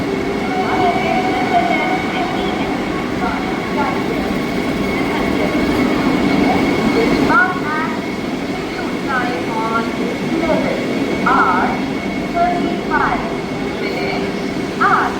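Steady rumble of a Vande Bharat Express train standing at platform one of Ambala Cantt Junction, with faint horn-like tones and chirpy squeals; a voice talks over it.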